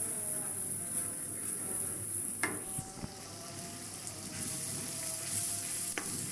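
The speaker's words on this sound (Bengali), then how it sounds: "তো শুটকিটা মশলাটা ভালো করে কষিয়ে" Turmeric, chili, salt and garlic paste fry in a pan for a dried-fish vegetable dish, giving a steady close-up sizzle with occasional scraping clicks from stirring and no talking.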